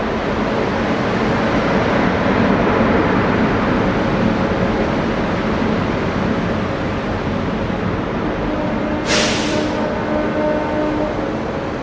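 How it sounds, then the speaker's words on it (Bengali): A Sealdah–Benaras Amrit Bharat Express rolling into a platform at Sealdah station, a loud, steady rumbling roar of wheels and carriages throughout, with a brief high hissing burst near the end. "আমার সামনে কিন্তু প্রবেশ করছে 22587 শিয়ালদা বেনারস অমৃত ভারত এক্সপ্রেস।"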